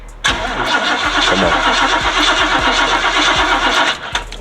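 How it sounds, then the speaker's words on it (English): A car engine cranking on a cold morning after a fuel pump replacement, the starter churning loudly and steadily for several seconds without catching before cutting off. "Hopefully it crank up on the first start."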